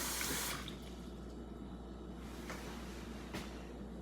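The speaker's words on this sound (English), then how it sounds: "Now I fill up the water with the 1 cup." Water runs steadily from a tap into a measuring cup, a continuous close splashing hiss with faint clinks.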